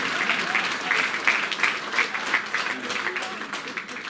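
Sustained audience applause fills a lively evening celebration for a centenarian, steady clapping from a crowd with a few voices mixed in under it.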